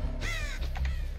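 Crows caw in the Dead by Daylight video game, one drawn-out harsh call followed by a few shorter squawks, heard over a steady low game ambience.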